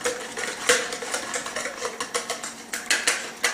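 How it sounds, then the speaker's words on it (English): Three whole eggs being lightly whisked in a bowl for bread pudding, a quick run of close, light clicking strokes of utensil against the bowl, steady and repeated with no talking. "we're going to take 3 eggs, 3 whole eggs, and lightly whisk those"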